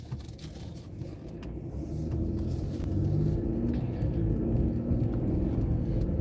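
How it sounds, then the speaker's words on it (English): A car approaching on a narrow residential road, its engine rumble growing louder and closer over a few seconds as it passes a vehicle pulled over to the right. "I see this car coming, so I'm going to go ahead and just pull over to the right"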